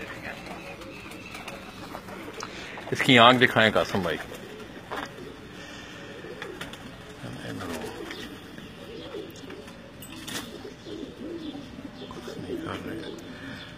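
Soft coos and bird calls from spotted (chhapdar) pigeons stand out briefly near the start, followed by quieter rustling and someone talking throughout.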